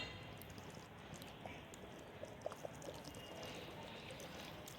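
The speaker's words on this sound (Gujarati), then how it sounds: "આ છે કોકોનટ ઓઇલ. એ આપણે કિલો નાખીશું. 2 બોટલ નાખી દઈશું." Coconut oil pours from a bottle into a batch of homemade herbal hair oil, a faint, soft glugging trickle with a few small splashes against a quiet background.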